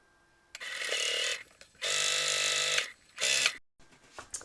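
A sewing machine stitching two mirrored vinyl pieces together runs in three separate bursts of rapid mechanical whirring, the middle run the longest, with short quiet pauses between them.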